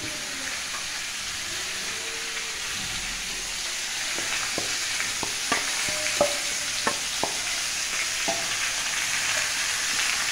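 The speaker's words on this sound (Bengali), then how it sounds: "লঙ্কাটা কষিয়ে নেব" Chilli powder and cumin frying in a hot pan give a steady, loud sizzle, joined midway by a series of sharp clicks and scrapes as the spices are stirred.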